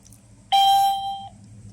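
A single clear electronic beep from a security camera after scanning a QR code, a pure tone held for just under a second, rings out over a quiet low hum.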